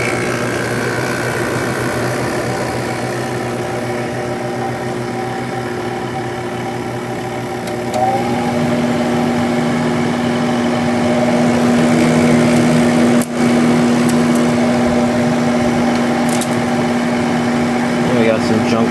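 Window air conditioner humming steadily just after start-up, a constant motor drone with a fan rushing and some loose debris rattling inside, loud and continuous throughout.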